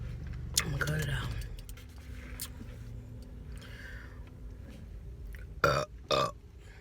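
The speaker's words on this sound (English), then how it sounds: "I wonder if I can burp." Someone lets out a loud, deep burp after gulping down a Route 44 oz drink, followed by a couple of sharp, close sounds near the end, with speech in between.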